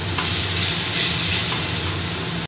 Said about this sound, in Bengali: সামান্য একটু জল দিয়ে মশলাটাকে ভালো করে কষিয়ে নেব।